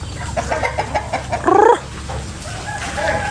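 Rhode Island Red chickens on a farm cluck close by in short, overlapping calls, with one louder, drawn-out squawk standing out above the flock and steady background noise.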